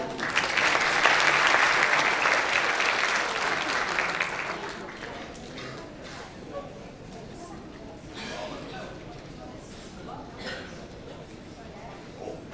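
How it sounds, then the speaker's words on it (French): A conference audience at an academic-industry forum claps loudly during a convention-signing ceremony. The applause is dense for about four seconds, then thins into scattered claps and room noise. "Sous vos applaudissements, messieurs, dames."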